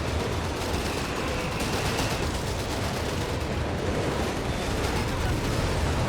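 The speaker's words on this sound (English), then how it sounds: "Big old barrage in the centre again" In Company of Heroes 3, a dense artillery barrage and gunfire rumble continuously and loudly across the battlefield, with overlapping booms and crackling shots and no break.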